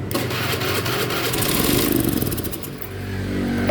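Honda Beat FI scooter engine cranking on its electric starter with a rough starting fault and a spraying injector, a close, continuous mechanical whirr and clatter that briefly surges as it tries to catch.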